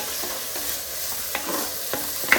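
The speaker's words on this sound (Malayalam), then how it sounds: "സവാള ഇട്ടിട്ടൊന്ന് ആ കറിവേപ്പില ഉലുവായിട്ടൊന്ന് മിക്സ് ചെയ്യുക, ഇളക്കി കൊടുക്കുക." Sliced onions with curry leaves and fenugreek seeds are stirred in a hot pan, a low sizzle under periodic scraping strokes of the spoon, close and moderately loud, with a small metallic clink at the end.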